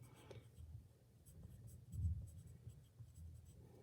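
Pencil writing a name on paper in an art classroom, a soft scratchy scribble that runs steadily through the clip, quiet and close, peaking briefly midway.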